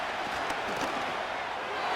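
A huge stadium crowd at the Super Bowl between the Kansas City Chiefs and the Philadelphia Eagles, a dense, steady roar of cheering that swells slightly, with no distinct voices standing out.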